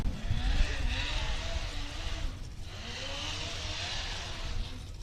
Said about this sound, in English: You can hear that exhaust just, again, the 180-degree header kind of coming out the front.